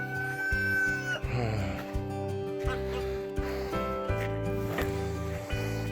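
Chickens cluck and crow in a backyard coop where an injured bird is kept apart, giving repeated short, fairly close calls with a brief crow-like note among them.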